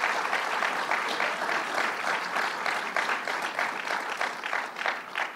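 A crowd at a gathering with the governor applauds steadily and loudly for several seconds, a dense wash of clapping that holds throughout without fading.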